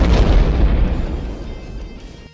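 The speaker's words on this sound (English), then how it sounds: "Three blasts followed in quick succession." Explosions blasting a theater, a heavy booming blast with deep low-end rumble that starts loud and decays over about two seconds, alone with no voices.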